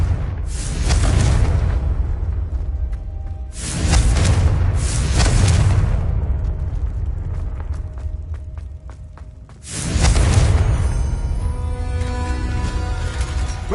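Deep, booming Confringo blasting-spell explosions in Hogwarts Legacy, three heavy blasts several seconds apart, each with a long rumbling tail, loud and close.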